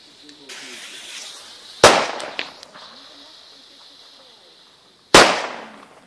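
Two D-class firecrackers from Diamond, plugged at the end, blast one after the other outdoors. Each is a sharp, very loud bang with a short echoing tail, separated by a few seconds of quiet background.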